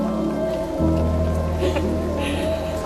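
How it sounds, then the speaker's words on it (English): Steady rain falls outdoors, a constant loud wash of patter filling the whole moment with no voices. "Sorry about the rain."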